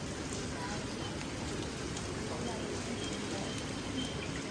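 Steady rain pours outside a school in Pala, Kottayam, a dense, even hiss throughout, with faint voices underneath.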